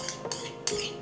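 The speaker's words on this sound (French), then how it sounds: "Voilà, et là tu remélanges." A utensil stirs batter with melted butter in a bowl, giving two quick scraping, clinking strokes against the bowl's side, soft and close.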